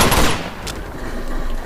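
A loud burst of gunfire in Uncharted 2: Among Thieves, a sharp blast that fades into a short echoing tail, with a smaller crack following.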